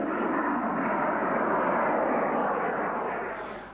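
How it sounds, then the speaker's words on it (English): A model rocket motor burning hard just after ignition gives a steady, loud, broadband roaring hiss that holds for a few seconds before starting to fade. "The rocket fuel is burning its fiercest about 2 seconds after ignition."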